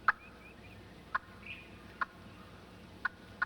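Turkey hen calls used in turkey hunting sound as short, sharp yelps spaced about a second apart, five distinct notes over a faint steady background.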